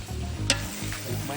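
Food sizzles and crackles in a pan set over a wood fire during the Bhogi bonfire while a utensil stirs it, with a sharp scrape partway through; a short, close, steady frying hiss.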